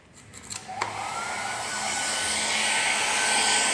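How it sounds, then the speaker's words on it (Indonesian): A hair dryer runs steadily as broadband airflow, heating an engine sensor during engine management system maintenance. A click or two comes first, then the blowing builds and stays loud and even. "kemudian yang selanjutnya kita panaskan dengan menggunakan hair dryer di sini"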